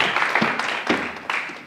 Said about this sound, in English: Et je vais vous demander d'applaudir dans l'ordre Stefan Baron